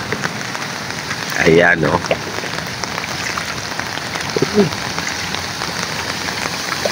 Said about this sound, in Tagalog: Hanggang ngayon umulan pa.